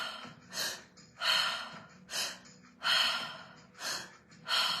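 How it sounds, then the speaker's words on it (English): Repeated quick, deep inhalations during a breathwork exercise, each a breathy rush of air drawn into the chest, about five in a steady rhythm, close and fairly loud with no talking. "breathing in as quickly and deeply as you can into your chest"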